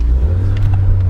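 A 1981 Honda Accord engine runs steadily at close range, a deep continuous rumble with no speech over it.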